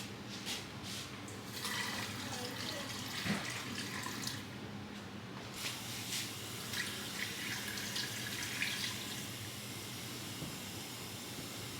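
Filtered water pours into a fermenting crock over cucumbers, a faint steady trickle and splash with small drips, continuous and quiet with no talk.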